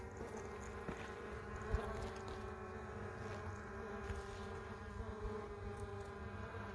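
Honeybees humming steadily around a hive whose colony has been moved down into the lower brood box, a dense continuous drone at moderate level with no pauses.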